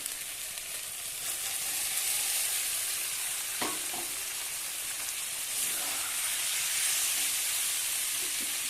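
Bottle gourd sizzling in a pan of spices as it is stirred, a steady broad hiss with a couple of brief scraping clicks from the utensil, close and alone.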